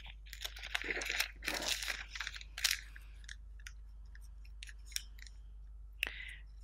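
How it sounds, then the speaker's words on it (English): Brown paper bag being cut with scissors and folded over, close crisp rustling and crinkling in a busy burst at first, then sparse small snips and crackles before a final rustle, with no talking. "So I'll just cut an angle there and there. And I'm folding it over."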